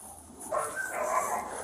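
Dogs bark from inside a house, muffled and a little distant. A few short, soft barks and yips come through the walls over a quiet outdoor background.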